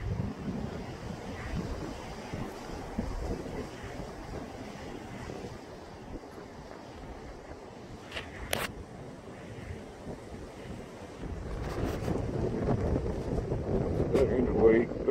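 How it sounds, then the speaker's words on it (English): Strong wind gusts buffet the microphone outdoors near a railway line, a loud rumbling roar that swells and eases, growing heavier toward the end, with someone talking at times underneath. "Yeah, it's so windy I can't hold the..."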